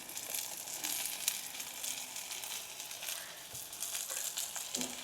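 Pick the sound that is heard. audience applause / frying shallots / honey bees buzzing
frying shallots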